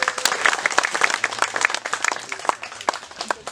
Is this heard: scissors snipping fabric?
no